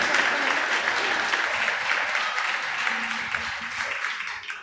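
Steady applause from a congregation at a church baptism service, dense and continuous clapping throughout with a few voices faintly underneath.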